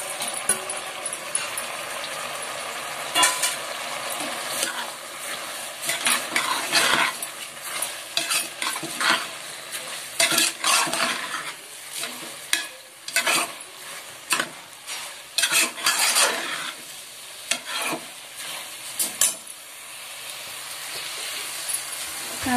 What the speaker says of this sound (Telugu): ఇందులోనైతే బియ్యం వేసుకుని ఫ్రై అయితే చేసుకుందాం